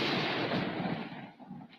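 Thunderbolt effect: a loud, rumbling crack like thunder or a heavy blast that rolls and decays over a second or two, heard alone.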